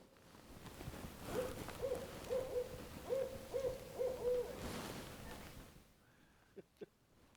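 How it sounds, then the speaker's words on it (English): An owl calls in a run of about eight hollow hoots, grouped in close pairs and moderately distant. The hoots give way to near-silence and a couple of sharp clicks. "Yeah, that's a real owl."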